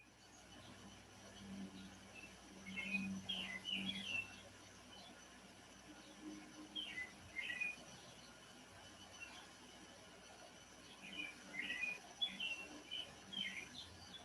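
Small birds chirp in short bursts at intervals, fairly faint and moderately distant, over a soft hum of background noise.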